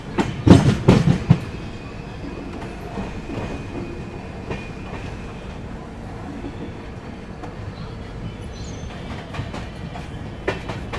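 Magadh Express train rolling into Ara Junction, with a short burst of louder clatter at the start, then a steady rumble of carriages and faint wheel clicks as it slows.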